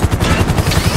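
Rapid automatic gunfire in GTA 5, a quick rhythmic burst of close, loud shots repeating several times within a second.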